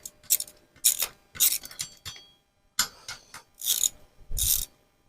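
Ratchet wrench clicking in several separate bursts of rapid, sharp ratcheting, close and fairly loud, with short pauses between the strokes and no talk.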